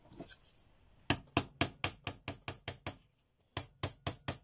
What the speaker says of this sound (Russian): вот этими двумя гвоздиками просто пока прибиваем